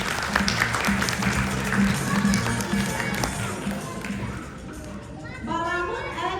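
An audience claps for a children's performance of Azerbaijani folk lullabies, a steady mass of applause with crowd murmur. The clapping fades toward the end as young voices begin to rise.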